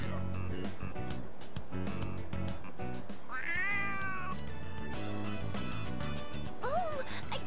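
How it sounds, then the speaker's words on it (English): A cat meows several times in the video game Persona 3 Reload over continuous background music, the calls rising and falling in pitch. "Oh, a kitty cat!"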